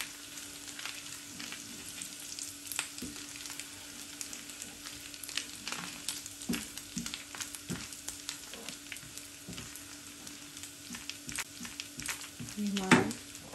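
Garlic frying in hot oil for a dhaba-style toor dal tadka gives a steady, soft sizzle throughout, with scattered crackles and pops and a brief louder stir or scrape near the end.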